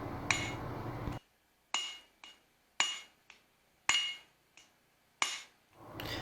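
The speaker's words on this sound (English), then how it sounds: "As I'm forging out this taper, I'm taking my strikes slow, I'm making them deliberate." Hammer blows on 5166 spring steel while forging a taper at an anvil, seven slow, deliberate ringing strikes spaced about a second apart, each with a bright metallic clink and short decay.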